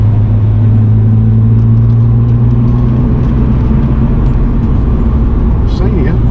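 Car engine drones steadily at a constant pace from inside the cabin, held in a higher gear on the Nürburgring track while faster cars pass, loud and continuous throughout.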